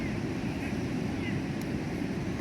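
Ocean waves at a beach wash in as a steady, broad roar, with wind buffeting the microphone throughout; no distinct breaks stand out, just continuous surf noise close by.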